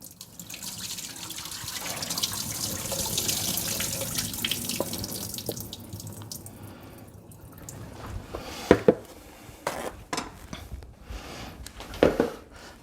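Boiled potatoes for homemade fries are drained in a sink, with a steady rush of pouring water that fades into scattered drips and light splashes and knocks.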